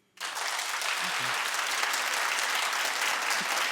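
An audience bursts into applause and keeps clapping steadily, a dense wash of many hands that holds at an even level.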